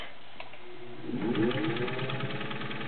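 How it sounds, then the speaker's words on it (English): A vintage Singer 201-2 gear-driven sewing machine running smoothly and quietly, its motor hum rising as it speeds up, close and steady for a couple of seconds. "it is a very smooth running machine"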